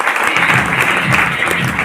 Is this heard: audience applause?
yes